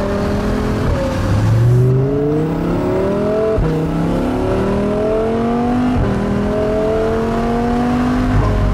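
A Lamborghini Huracan Spyder's V10 engine revs hard through repeated rising gear pulls, each climbing pitch cut by a shift, loud and close with no talking.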